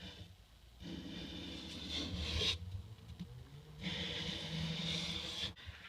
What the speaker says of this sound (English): So I will go ahead and sharpen them and go from there.